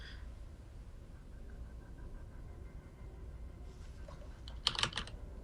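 Computer keys clatter in short bursts under a low steady hum, light typing that rises into a quick flurry of clicks near the end.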